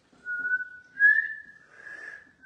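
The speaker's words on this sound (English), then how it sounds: "In a minute we're going to go around to make sure everyone can whistle" A person whistles a single sustained, slightly wavering note in short phrases at close range during a saltine cracker challenge, with quiet surroundings and no talking.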